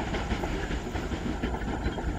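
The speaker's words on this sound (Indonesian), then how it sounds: "kereta api babar ranjang saat ini sudah melintas di sini di pos blok Bat Agung" A Babaranjang long coal freight train rolls past a block post in Indonesia, steady close clickety-clack of wheels on rail joints with hissing and rumbling, loud and continuous throughout.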